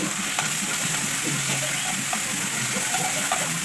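Spleen meat frying in a hot pan with masala, a steady close sizzle and hiss with scraping stirring strokes throughout, no voices.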